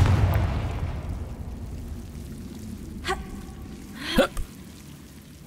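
A Confringo fire spell blast in Hogwarts Legacy: two short, fairly faint bursts go off a second apart near the end, after a quiet fading hiss, with no talk over them.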